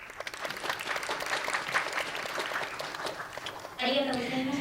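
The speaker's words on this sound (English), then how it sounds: "Please big round of applause once again." Audience applause fills the hall after a speech at a children's world peace summit, steady and dense clapping throughout, with a brief tonal sound entering near the end.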